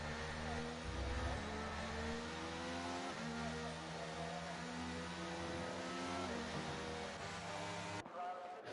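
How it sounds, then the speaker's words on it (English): In a racing video game, the safety car's engine drones steadily with shifting tones through gear changes. The sound is faint and distant, and it cuts off abruptly near the end. "So the safety car is going another lap."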